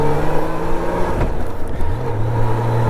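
A 1997 Honda Goldwing GL1500SE motorcycle is ridden with a loud, close, steady engine drone that dips briefly and then rises again as it accelerates, with constant wind rush and no voices.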